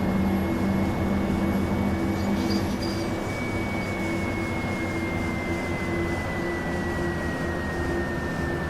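Bus engine in the OMSI 2 bus simulator game running at high revs, a steady loud droning hum with a faint high whine that glides slowly downward, constant throughout with no talk.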